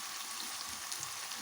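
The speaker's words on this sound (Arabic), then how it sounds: "هستنى لما البصل يتحمر شويه" Onions fry in a pan on a home stove while shakshuka is being prepared, giving a steady close sizzle for a brief moment with no talking.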